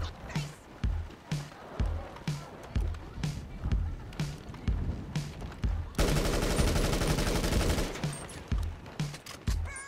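Gunfire from the video game GTA 5 Online rings out as repeated sharp shots, followed by a sustained rapid burst resembling a fusillade, with game sounds running steadily underneath.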